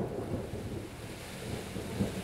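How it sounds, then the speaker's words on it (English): Outdoors at a cottage, a low rumble of thunder rolls steadily alongside a soft hiss of rain, faint and distant, with no talking. "Here comes the rain."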